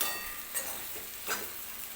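Potatoes sautéing in oil in a pan, a soft, fairly faint sizzle with two brief scraping stirs, heard close and alone.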